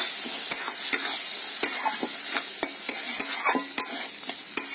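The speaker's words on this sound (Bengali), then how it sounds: "পেঁয়াজ, টমেটো, সর্ষে সব কিছুই ভালো মতো কষে নিতে হবে।" Onion, tomato, mustard, turmeric and chili powder sizzle steadily in a pan, with repeated scraping strokes of a spatula stirring the masala, close and moderately loud, no voices.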